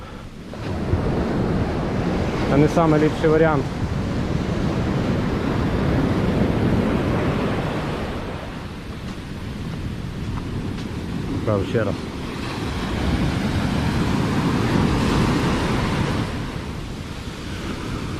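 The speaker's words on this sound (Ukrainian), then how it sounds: "Отакі от хвилі." Large waves break and wash onto a beach in Sri Lanka, a steady roaring surf with swells rising and falling amid wind noise, while people talk briefly over it.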